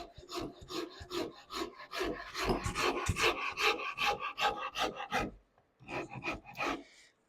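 A wood rasp files a carved wooden neck, working it narrower in quick, rhythmic back-and-forth strokes close by, with a short pause before the scraping resumes.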